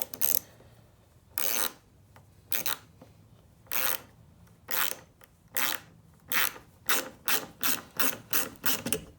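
A mini ratchet clicks as it tightens a fastener, its pawl chattering in short loud bursts that start sparse and speed into a quick regular rhythm, close up with no talk.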